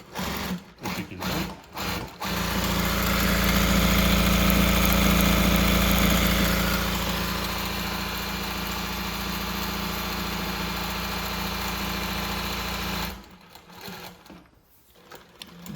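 A VINLEX VX-1530-DD zigzag leather sewing machine runs steadily for about eleven seconds with a loud mechanical hum and rapid needle clatter, after a few brief knocks at the start, then slows and stops near the end.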